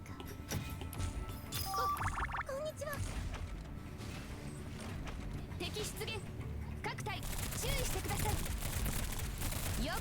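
Gunfire in the video game Girls' Frontline, with rapid bursts of shots and clattering mechanical hits in a busy battle mix under an ongoing voice.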